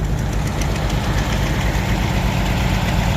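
A supercharged John Deere tractor idling at a tractor pull, a loud, steady, rough mechanical rumble with constant knocking and no variation in pitch; no talking.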